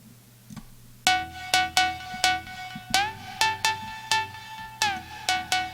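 A lead synth melody programmed in Ableton Live for a psy-ish EDM track plays as a run of bright, plucky notes in a quick, uneven rhythm, each decaying fast over a low sustained bed, alone and clear.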